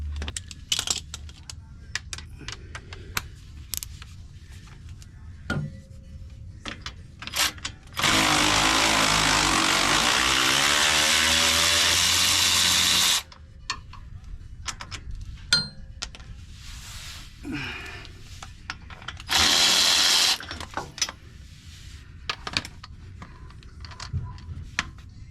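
Impact gun zapping off Loctited driveshaft bolts on a Jeep: two loud bursts of rattling hammering, a long one of about five seconds and a shorter one later, separated by scattered clinks and handling noises.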